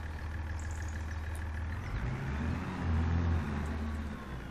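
A tractor engine idles in Farming Simulator 25, a steady low diesel rumble with a faint whine, swelling slightly midway and holding alone without talk.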